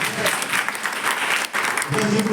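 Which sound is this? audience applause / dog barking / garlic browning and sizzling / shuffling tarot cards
audience applause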